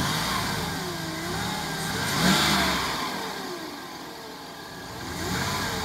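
A car engine revs in a staged man-versus-car fight, rising and falling in a few broad surges over a steady mid-range drone, with no voices over it.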